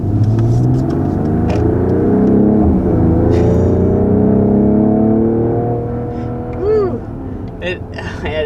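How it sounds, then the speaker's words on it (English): A 2021 Mercedes GLE 53 AMG with its performance exhaust open, engine note rising and sweeping through revs loud and close, then easing off; a voice talks briefly near the end. "we've got the performance exhaust on right now"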